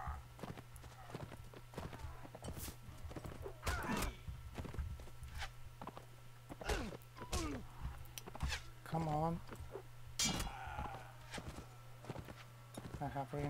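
Hoofbeats from a horse in the video game Mount & Blade: Warband, a long run of uneven clopping and thumps amid battle clatter and a steady low drone, with someone talking at times.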